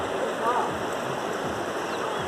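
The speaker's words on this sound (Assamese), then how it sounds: "আৰু এইফালে নদীটো এনেকৈ বৈ গৈছে" A river flowing down from Bhutan near a dam gives a close, steady rushing wash of water that stays at an even level without a break.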